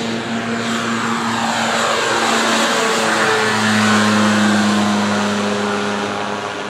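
An ultralight aircraft passing overhead at Cambaie, Réunion, throttles its engine up in flight, a loud droning propeller roar with a rising whine that sweeps past continuously, with no talking.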